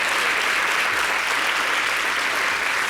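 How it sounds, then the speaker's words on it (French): Dense, steady applause from an audience at a televised summer show in Benin, greeting a performer's two wives as they come forward; continuous clapping fills the whole stretch with no pause. "applaudissez-les"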